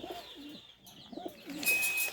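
A male racer pigeon coos in a few low, throaty rolling calls, close by, with a brief bright rustle near the end and no talking.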